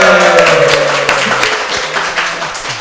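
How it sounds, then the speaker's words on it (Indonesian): Audience applause for Cak Lontong at a Beritajakarta talk session, a dense wash of clapping that runs loud and steady over a sustained musical tone, easing slightly toward the end. "Tepuk tangan buat Cak Lontong."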